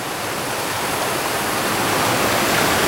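Water runs down a soaked, mossy living wall of ferns in a wooded glen, giving a close, steady, hissing rush that stays even throughout with no voices.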